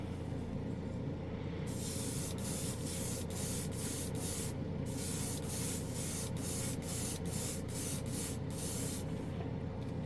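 Airbrush spraying gray paint with an anodized-metal look: a steady, close hiss of air and paint with brief trigger breaks in its upper range, running alone throughout.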